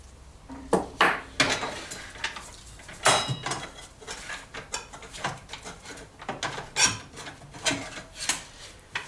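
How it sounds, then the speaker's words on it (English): The blade and flange are being removed from a Festool Kapex KSC 60 miter saw, with close metallic clinks, scrapes and rattles coming in irregular bursts and short pauses between them. "taking off the blade. And you have this flange."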